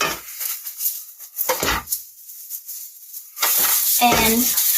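French toast fries in a pan on the stove, giving a steady sizzle that rises to a louder, denser crackle toward the end, with clatter from the pan alongside it.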